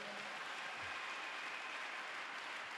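Church congregation applauding and cheering during a worship service, a steady wash of clapping and crowd noise held at an even level throughout, with no distinct voices standing out.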